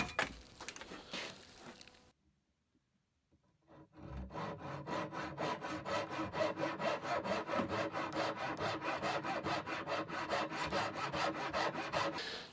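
A hand saw cuts through the leg of an antique wooden table, starting with a few strokes, pausing briefly, then settling into a long run of steady, rhythmic back-and-forth sawing, close and fairly loud, with no talking.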